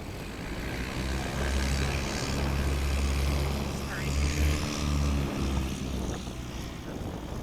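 Propeller engine of a modified STOL light aircraft during a short takeoff and landing practice at Swamp STOL in Jennings, Louisiana, a low droning hum that swells and fades nearby, mixed with live commentary.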